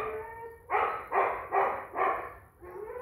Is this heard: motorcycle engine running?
no